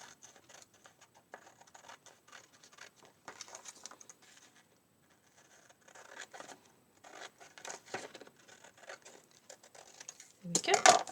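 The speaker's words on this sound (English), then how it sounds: "So just going to cut carefully" Scissors snipping carefully around a paper card shape with a narrow border, a series of soft, irregular cuts and paper rustles close up, ending in a louder handling rustle.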